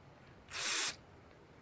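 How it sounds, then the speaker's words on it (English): Carburetor cleaner hisses in one short, bright burst of spray through a Toro snow blower carburetor, close and isolated against a quiet background, with the start of a second burst at the end. "I'm gonna blast carburetor cleaner through it and then wipe off that residue stuff."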